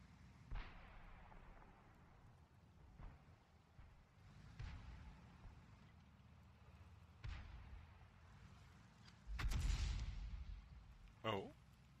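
Tank cannon shots in the video game World of Tanks come as a handful of separate booms spaced a few seconds apart, the loudest and longest blast near the end, over a low, quiet in-game background.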